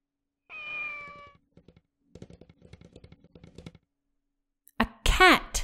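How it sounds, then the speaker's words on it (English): A single clear cat meow from the video game Kamaitachi no Yoru, followed by a burst of keyboard-like clicking and then a second, louder, drawn-out yowl near the end. "A cat!"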